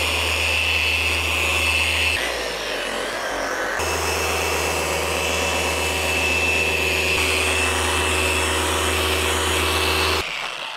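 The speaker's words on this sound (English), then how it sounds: "Now I am using a flex polisher and I am on the high setting." A Flex dual-action polisher on its high setting whirs steadily as it polishes the paint of a new GMC Denali Ultimate. The loud, continuous motor drone has a brief dip in pitch partway through and runs with no talking.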